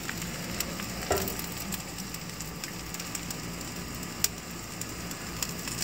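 A thick maple Crown Royal glaze sizzles on a pork tenderloin in an ugly drum smoker, giving a steady faint crackling hiss with a few soft pops and no talking.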